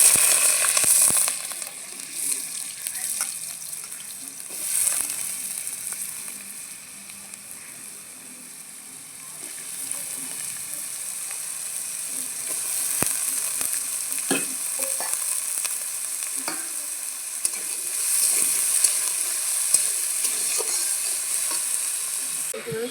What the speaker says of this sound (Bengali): এই আলুগুলো আমি এখন কড়াইতে দিয়ে দেবো। তেল গরম হয়ে গেছে।